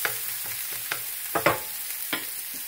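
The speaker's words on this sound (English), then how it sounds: "So hot oil, and in I go, and as I cut, I cook." Cut vegetables hit hot oil in a pan and fry with a constant hiss, broken by several sharp stirring scrapes and clatters at irregular intervals, close by.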